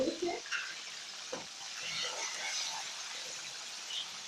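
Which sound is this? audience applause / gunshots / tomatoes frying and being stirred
tomatoes frying and being stirred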